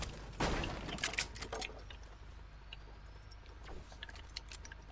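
Sharp gunshot impacts from a shooter video game strike the player, a cluster of close cracks near the start followed by scattered fainter pops, alone with no talk.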